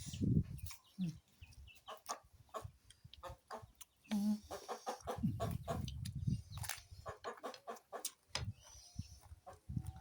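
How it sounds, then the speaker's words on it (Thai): A mother hen with young chicks clucks in a Thai outdoor setting, with repeated short clucks and peeping in uneven bursts, fairly close, while people talk intermittently nearby. "ไก่แม่ลูกอ่อนเนี่ยลูก"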